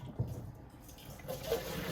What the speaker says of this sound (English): Waste the water out.